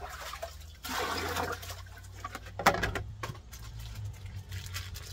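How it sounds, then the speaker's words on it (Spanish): A cap is pushed into a basin of water mixed with dish soap for washing, giving soft sloshing and splashing with one sharper splash midway, quiet and close, with no talking. "Voy a meter la gorra, gente."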